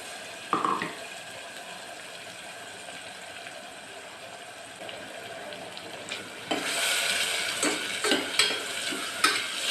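Ginger garlic paste sizzling and frying in a pan while a spoon stirs it, a steady soft hiss with scraping strokes that grow busier and louder toward the end, and no voices.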